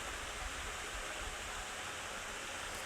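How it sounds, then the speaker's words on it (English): Continuous rushing water from a fountain, a steady broadband splash with no pauses or voices. "let me give you a shot of the fountain so you can see the water that you're hearing"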